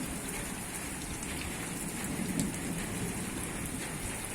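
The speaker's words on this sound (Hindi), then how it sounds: "तेज तेज बारिश लगी है।" Heavy evening rain pours onto a rooftop in Islamabad, a steady, dense hiss of drops without a break and no voices.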